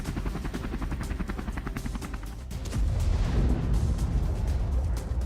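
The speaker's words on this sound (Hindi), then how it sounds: "अटैक हेलीकॉप्टर ने रूसी कब्जे वाले इलाकों पर फ्लेयर बम से हमला बोला" Ukrainian attack helicopter over Russian-held territory firing flare bombs: a steady loud rotor thrum with rapid repeated pops and bangs, swelling into a denser, heavier roar of fire partway through.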